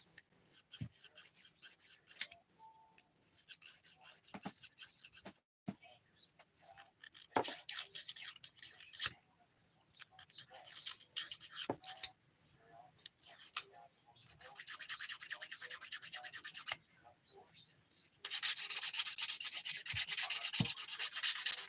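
Nail file rubbing over dip powder nails to smooth a lumpy one: close, dry scraping strokes come in short intermittent passes, then turn into longer, steadier rasping toward the end.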